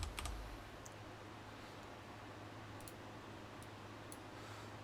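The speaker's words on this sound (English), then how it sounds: "we're going to type in delay" Quiet typing on a computer keyboard: a few soft, scattered key clicks over a steady low hum while entering a value in game-development software.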